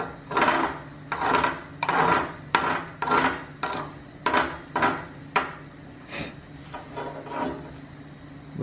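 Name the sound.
chipping slag off a flux core weld on steel plate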